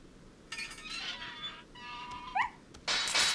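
A dog in Resident Evil 4 whimpers and yelps in short, high, rising cries over a quiet background, with a few brief clinks and a louder burst at the end.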